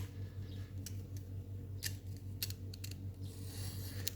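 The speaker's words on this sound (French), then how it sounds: "Donc, je vais couper un peu les coins." Scissors snip the corners of paper for a handmade envelope binder, a few sharp faint clicks scattered over a steady low hum.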